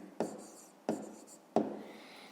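Three separate handwritten strokes on paper during a fifth-grade maths lesson on writing prices in hryvnias, each a short scratchy burst at a steady rhythm about every two-thirds of a second, close and fairly quiet, with no talking.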